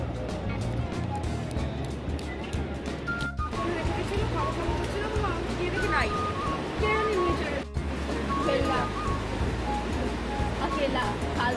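Surf breaks continuously on the beach at Mandarmani in light rain, a steady broad wash with people chatting and background activity over it.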